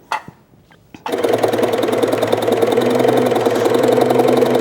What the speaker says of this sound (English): I'm going to show you how we do that with a needle felter